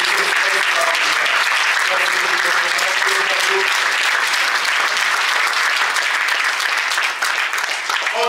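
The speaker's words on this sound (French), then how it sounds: "Applaudissez-le, les gars!" An audience at a business meeting gives sustained applause, dense and loud clapping throughout with faint voices underneath.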